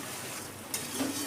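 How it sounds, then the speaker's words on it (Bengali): A paste of ground ginger, onion, garlic and cumin sautés in a pot with a soft, even sizzle, broken by a brief clink or scrape of stirring partway through. "এবার এই মশলাটাকে একটু কষাবো ভালো করে।"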